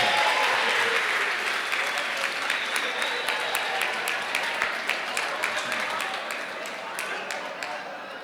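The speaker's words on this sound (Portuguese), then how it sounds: "Uma salva de palmas para eles também" A church audience at a couples' event claps for a group of helpers, sustained dense applause with some sharper individual claps, gradually thinning toward the end.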